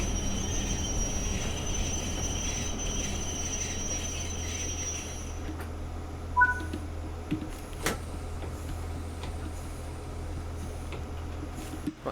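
Class 142 Pacer train, ex-Arriva TfW, in a train simulator game, pulling into Cogan station: a steady low engine drone and rail rumble with a high whine that fades midway, then quieter idling with a few faint clunks.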